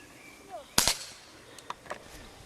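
A quick pair of sharp rifle shot cracks sounds at moderate distance during prone shooting practice at a Cossack camp, followed by a few fainter pops, with a quiet background.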